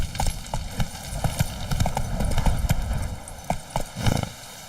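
Hooves of Geralt's horse Roach clip-clop in The Witcher 3, a steady uneven rhythm of close hoof strikes over a continuous ambient bed, with a brief neigh possible but no speech.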